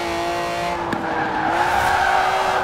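A 640-horsepower Ferrari in the Forza Horizon 4 racing game holds a loud, sustained engine tone. Near the one-second mark a brief click or shift cuts in, and the tone climbs slightly toward the end.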